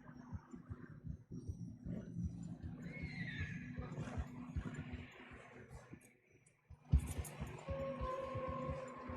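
Horse whinnying in Red Dead Redemption 2 on a snowy trail, a few neighs and snorts with hoof clops, moderately near, briefly dropping out before a sharp rise, under other game sounds.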